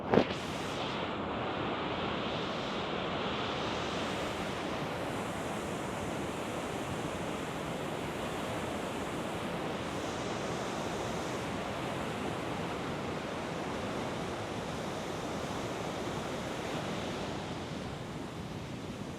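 Wolf River Falls in Canada pours in a steady, dense roar of falling water, continuous and unbroken throughout with no voices.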